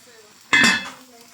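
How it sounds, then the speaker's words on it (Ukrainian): A pot of meat pilaf is stirred and covered with a lid: one brief, close metallic clatter and clink of the lid and utensil against the pot, rising sharply and fading within a split second, over a quiet room. "Перемішуємо і накриваємо кришечкою буквально на минут 20, щоб м'ясо добре протушилося."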